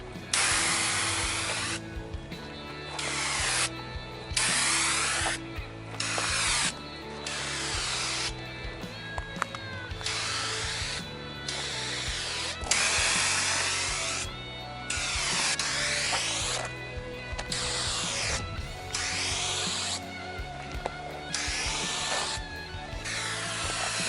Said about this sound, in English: I forgot how fast these things spray.